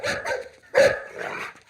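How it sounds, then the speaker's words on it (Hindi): A dog barks in a comedy film scene, with several loud, close barks in short bursts and brief pauses between them. "अबे कुत्ते क्यों भौंक रहा है?"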